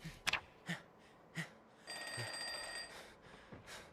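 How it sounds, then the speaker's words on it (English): A telephone rings inside a video game with a television on: about a second of bright electronic ringing, preceded by several soft, scattered knocks and taps, heard alone without talk. "There was a TV on and I just heard a phone ring."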